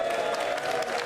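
A crowd applauds at a UK election count, a dense, steady patter of clapping heard briefly.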